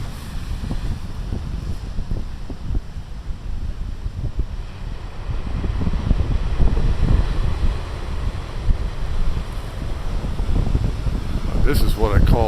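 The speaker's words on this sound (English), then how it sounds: "This is what I call a big waves BTL video." Big ocean waves crash and surge in a continuous low roar, with buffeting wind noise across the microphone throughout.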